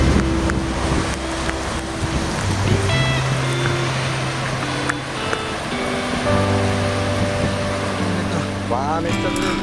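Heavy rain drums steadily, a dense hiss that persists throughout, with a low engine-like hum and occasional tonal chimes layered beneath it.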